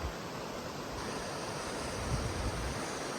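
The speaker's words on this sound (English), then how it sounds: "the water continues to flow. It's pretty swift through here." Swift water of the Cane River along Route 19W rushes past new drainage lines seven months after Hurricane Helene, a steady, dense roar that runs unbroken and fairly loud, with no voices.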